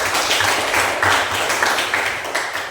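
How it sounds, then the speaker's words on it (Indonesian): A small group claps for Ambu and Tika, a dense patter of hand claps that holds steady and slowly fades, close and moderately loud. "tepuk tangan buat Ambu dan Tika"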